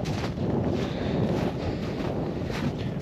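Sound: strong wind at lakeside tent

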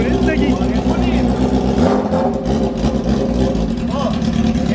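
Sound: Honda Fan motorcycle engine revving with straight exhaust pipe

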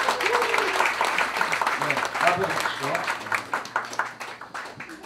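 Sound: audience applause at year-end show

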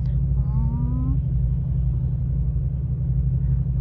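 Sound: motorbike engine revving at traffic lights

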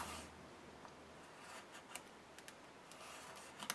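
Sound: X-Acto knife trimming paper album pieces

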